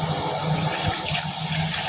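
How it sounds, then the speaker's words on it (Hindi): A cup of water pours steadily into a pot of soaked, softened aloo bukhara plums, a continuous close splashing rush with no talk. "इसमें मैं पानी ऐड करूँगी"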